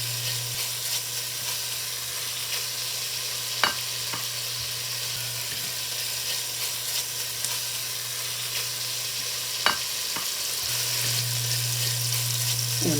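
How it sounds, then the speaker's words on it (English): Beef searing in a pan of olive oil and bacon grease gives a steady close sizzle throughout, with a couple of sharp clicks and a louder frying burst near the end. "Now we're going to sear our beef in our oil."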